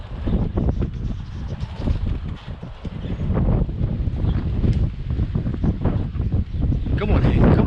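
Strong outdoor wind buffets the microphone in loud, continuous gusts while a person keeps calling out over it.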